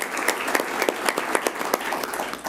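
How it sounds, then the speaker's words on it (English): Crowd applause for Howard Zemsky at a public event, a brief burst of many hands clapping at moderate distance, steady and fairly loud with no speech. "Let's give him a round of applause."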